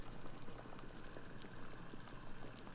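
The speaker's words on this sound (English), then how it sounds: "we can see the water is boiling" A pot of neck bone broth boils steadily, with a soft continuous bubbling and hissing that stays faint and even throughout, with no talking.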